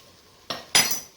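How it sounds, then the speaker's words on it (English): A kitchen knife cuts onions in half with two quick, crisp strikes against the board, the second louder and more ringing, close up in a quiet room. "cut your onions in half"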